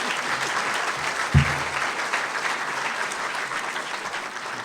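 Steady audience applause at a City Club gathering carries on throughout, dense and even, with a brief low bump partway through.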